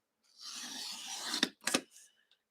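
A piece is trimmed to size with a rasp or file: a second-long scraping stroke followed by two short, sharp rasps, close and fairly quiet.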